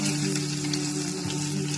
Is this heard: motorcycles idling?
no